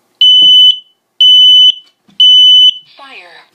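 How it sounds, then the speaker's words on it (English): A smoke detector sounds three loud, shrill electronic beeps in even succession, each about half a second long, followed by a brief synthetic voice announcement. "to have that smoke detector activate."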